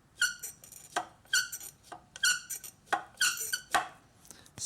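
A clutch release bearing on a Scion FR-S, with the transmission removed, squeaks as it is worked back and forth by hand, giving a repeating series of sharp, close squeaks in a steady rhythm.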